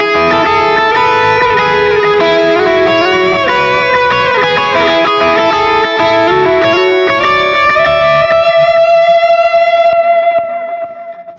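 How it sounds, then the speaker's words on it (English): An electric guitar with stacked overdrive pedals plays a saturated lead line, sustained distorted notes that settle into one long held note and fade out, loud and close with no voices. "I can stack something on to make that a lead sound."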